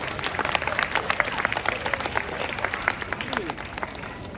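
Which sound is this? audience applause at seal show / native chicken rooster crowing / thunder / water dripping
audience applause at seal show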